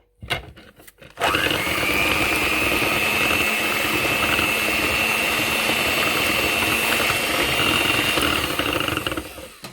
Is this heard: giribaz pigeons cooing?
no